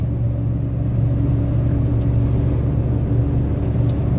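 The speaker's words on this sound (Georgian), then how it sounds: "ნაგვის მანქანები." Garbage trucks working on a street in Akhmeta, Georgia, a loud, steady low engine rumble close by that continues without a break.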